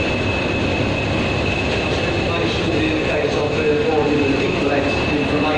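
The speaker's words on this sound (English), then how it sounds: "Steam at Harrow!" A steam locomotive train running at Harrow station on a steam day in Metroland, a loud continuous rumble of rolling wheels and carriages with a faint squeal, heard close up.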